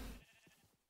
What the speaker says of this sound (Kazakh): Қойлар!